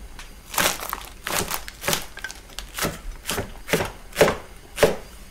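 Green onion being chopped on a cutting board for a lobster ramyeon, about eight crisp knife strikes at an uneven, unhurried pace, close and loud with no talking.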